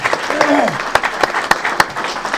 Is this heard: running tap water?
no